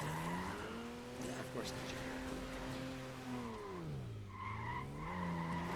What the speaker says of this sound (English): that's some mad drift right there